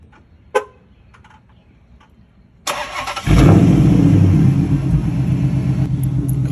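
Car engine warm start after a few quiet clicks: a starter whir, then the engine catches with a loud roar and a quick rev before holding a deep, rumbling fast idle.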